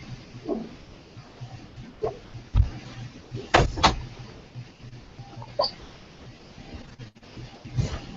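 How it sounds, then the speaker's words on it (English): An indoor door is pulled shut, making a couple of fairly loud thumps and a latch click near the middle of an otherwise quiet room, with no talking. "I'm gonna close the door."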